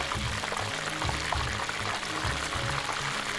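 Food fries in hot oil with a steady bubbling sizzle and soft pulsing gurgles, close and continuous with no one talking.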